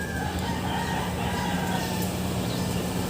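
Silkie chickens cluck and murmur amid a busy background of farmyard noise, with occasional higher calls mixed in.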